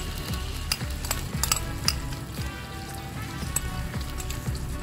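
Beaten egg yolk fries in a tablespoon of oil in a pan, a steady close sizzle and crackle with soft spatula stirring scrapes, no voices.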